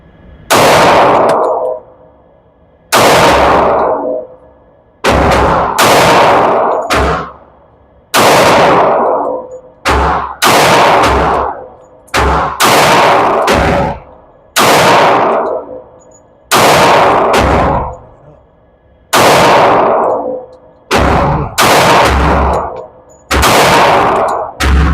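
Loud, close pistol shots from a Sig Sauer xTen ring out at an outdoor shooting range, fired in irregular pairs and single rounds with sharp cracks and short ringing decays across the stretch.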